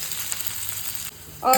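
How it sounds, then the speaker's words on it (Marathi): Onions sizzle steadily in a pan for masala Maggi, a continuous close frying hiss with a brief louder burst near the end. "कांद्याला फक्त 2 मिनटं असं करून घेते कारण का मी जास्त शिजवणार नाही आहे"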